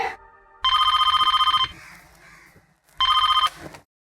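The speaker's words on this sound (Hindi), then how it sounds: "जरा देखना किसका फोन है।" A telephone rings in two loud, rapid electronic trilling bursts separated by a short pause.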